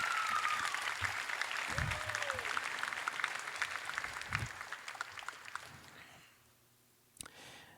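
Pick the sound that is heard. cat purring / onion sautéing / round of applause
round of applause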